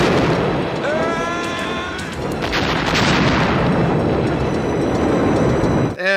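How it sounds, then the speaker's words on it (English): A grenade blast in an action movie erupts as a loud, booming explosion with a long rumbling wash of debris and noise, preceded by a brief whistling tone and ending in a short sharp sound. "And you know what's really useful? Grenades."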